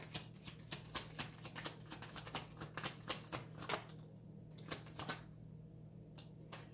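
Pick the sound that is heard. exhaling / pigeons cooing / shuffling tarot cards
shuffling tarot cards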